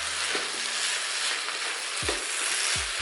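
Chicken fried rice sizzles loudly and steadily in a hot pan while being stir-fried and mixed, with a couple of low scraping thuds from the spatula.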